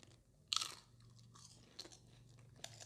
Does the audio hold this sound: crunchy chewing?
yes